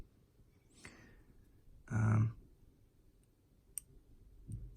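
A hobby blade nicks away 3D-printed support material from a Brewster bomb rack model, giving a few faint, sparse clicks and one louder snap near the middle in an otherwise quiet room.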